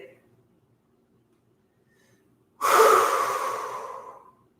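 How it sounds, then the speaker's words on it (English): A single deep, forceful breath during a live yoga session, rushing loud and close after near silence and tapering away over about two seconds. "Deepen your breathing."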